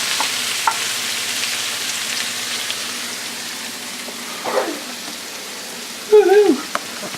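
Shallots and garlic sizzle and fry steadily in oil in a pan, a soft continuous crackle with a couple of brief clinks and scrapes near the end.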